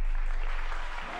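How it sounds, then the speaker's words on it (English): Audience applause at a snooker exhibition match, a steady dense wash of clapping from a crowd, loud and continuous throughout, fading slightly at the end. "they were applauding the combination and the fact that the ball went"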